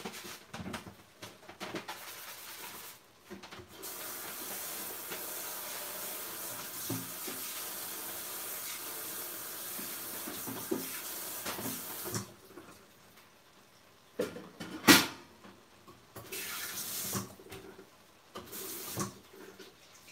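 Water running in a kitchen sink while washing up during cooking, a steady faint rush that stops and restarts with soft clatters.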